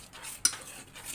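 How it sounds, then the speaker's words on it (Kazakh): A utensil stirs a starch-and-water slurry being poured into a pot of boiling water, a soft steady scraping with one sharp clink midway, quiet and brief with no talking. "қайнаған судың үстіне құйып тұрып араластырасыздар"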